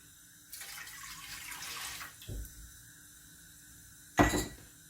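Milk pours into a pot over low heat for a Lebanese no-bake dessert, giving a soft liquid rush of about two seconds, then a brief clunk and a louder splash near the end.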